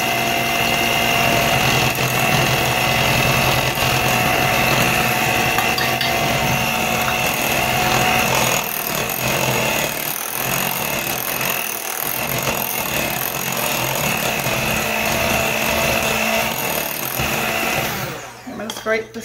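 An electric mixer on its lowest setting beats cake batter in a bowl, a steady whirring hum that runs continuously before winding down near the end.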